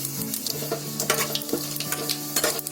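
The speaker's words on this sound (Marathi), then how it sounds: "आता त्याच्यामध्ये जिरं टाकते, पाव चमचा." A quarter teaspoon of cumin seeds sizzles in a hot pan with cloves and black pepper for sambar, a loud continuous fry broken by repeated stirring scrapes and light clinks.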